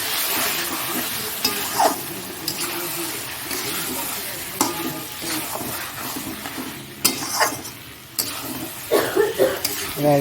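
Chicken kasha frying in a pan as water is poured in, giving a steady close sizzle with sharper hissing bursts and occasional stirring scrapes and utensil knocks.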